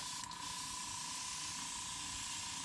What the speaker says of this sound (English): just doing a real light mist coat to begin with